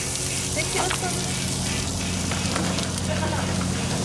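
Mushrooms cook in melted butter in a hot pan for sous vide Philly cheese brats, giving a constant close, crackling sizzle with a muffled voice partly under it.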